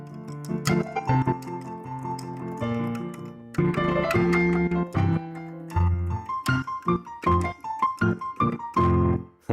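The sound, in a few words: melody of Mozart's Queen of the Night aria played by hand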